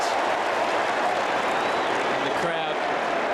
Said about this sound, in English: And the crowd give a roar of approval.